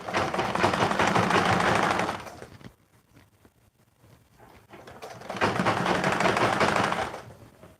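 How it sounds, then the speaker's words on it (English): Sewing machine top stitching a female shirt: two loud, steady runs of rapid whirring stitching separated by a short quiet pause with faint handling noises. "So after top stitching the middle here"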